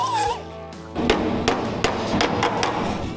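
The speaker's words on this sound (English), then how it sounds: "and then we'll hammer it again" Hammer blows on rusty car body sheet metal during a restoration, about six sharp, ringing strikes spaced roughly a third of a second apart, loud and close, preceded by a brief low hum.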